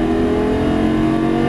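A Lamborghini Gallardo accelerates hard around a race track, its engine roaring loud and close as it pulls steadily with no break.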